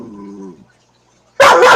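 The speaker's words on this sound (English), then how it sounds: "he is a very talkative dog" A talkative dog named Leo lets out a short whining vocalization, then after a brief pause a single loud, sharp bark close by.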